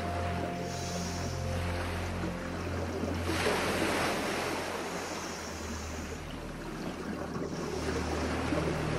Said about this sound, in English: they need to vent the air, which emerges with a rush of bubbles drifting upwards to the surface